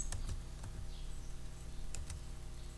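A computer keyboard being typed on while entering a quadratic function, with a few soft scattered keystrokes and clicks, close but quiet over a low background hum.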